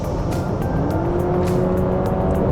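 A Honda CR-V engine in sport mode roars steadily as it accelerates, a deep continuous drone with road rumble and a rising tone, close and loud.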